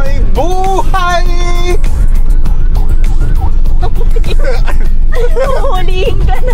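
A wailing emergency siren from an ambulance passes on the road during a minivan ride, rising and falling tones over loud road and engine rumble, with people talking at the same time.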